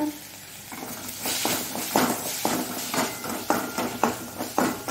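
Curry leaves dropped into tomato and onion frying in oil for a Mangalore-style tomato chutney, with a rising sizzle and repeated spoon taps and scrapes against the pan in a loose rhythm.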